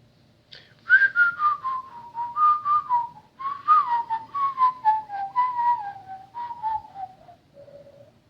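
One person whistles a tune alone, clear and close: a run of short, bright phrases that step downward in pitch, with brief pauses between them and a final held low note.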